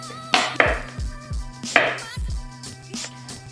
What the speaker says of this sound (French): On va couper les radis.